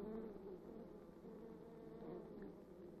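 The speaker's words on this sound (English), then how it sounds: "Bees assume many duties in the hive." Honey bees buzz inside the hive, a dense continuous hum that stays steady and close throughout, with no talking.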